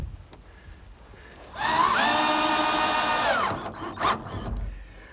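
A power drill drives screws into a wooden playhouse panel in one steady, loud whirring burst of about two seconds, followed by a short second spin and a few fainter tool sounds. No one speaks.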